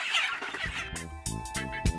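Chickens cluck at a poultry farm, a few short close calls in quick succession at a modest level with no voices.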